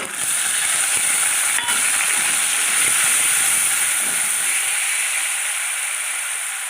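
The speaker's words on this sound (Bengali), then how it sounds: "এবার এতে দিয়ে দেবো পেঁয়াজ বাটা।" Onion paste hitting hot oil over fried tempering spices and slit green chillies, giving a steady, loud broadband sizzle that holds for several seconds with faint stirring scrapes.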